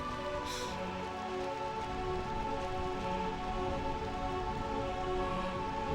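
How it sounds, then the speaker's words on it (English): Steady rain falling in Final Fantasy IX video game, a soft even hiss of drops on surfaces continuing throughout, fairly faint and alone with no talk. "Realm of Eternal Rain."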